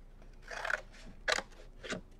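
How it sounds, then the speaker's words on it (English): Scissors snip through paper while cutting out a bat necklace template, giving three separate crisp cuts spaced about half a second apart, close and fairly quiet, with no talking. "all you want to do is you want to cut this one out"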